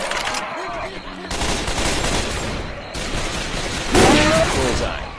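Gunfire in the video game Left 4 Dead 2, a steady barrage of rapid shots running nearly throughout, with a louder burst near the end and a brief voice mixed in.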